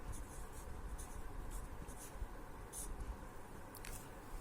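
Pen scratching across notebook paper during a Hindi literature class: soft continuous writing strokes with occasional brighter scrapes, faint and close over a steady background hiss, with no speech.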